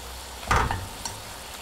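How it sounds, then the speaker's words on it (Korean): Fried tofu pouches drop into a pot of boiling water with a brief splash and hiss, then settle into a faint bubbling. "물이 팔팔 끓을 때 유부를 넣어주세요."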